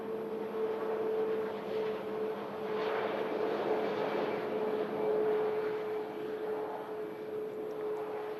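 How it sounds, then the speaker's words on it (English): An Emirates Airbus A380 climbs out from Manchester Airport, a distant, steady jet roar with a sustained low tonal hum that swells slightly midway and then holds, heard alone without talk. "The Emirates A380."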